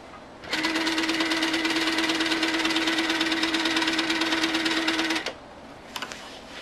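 Sewing machine stitching the border of a pieced quilt, a loud steady mechanical whirring chatter running about five seconds, then stopping, followed by a couple of faint clicks.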